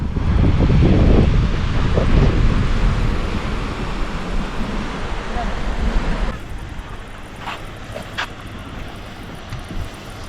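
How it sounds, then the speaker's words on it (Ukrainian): Wind buffets the microphone on the Black Sea shore while waves surge and wash in, loud and close at first, then easing into a steadier hiss of surf with some brief higher sounds near the end. "Так, а ось море."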